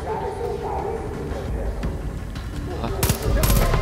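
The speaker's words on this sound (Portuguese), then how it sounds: "Espera, escutou o tiro já." A short burst of loud gunfire breaks out near the end, cutting through a steady background rumble in the video game Far Cry 5.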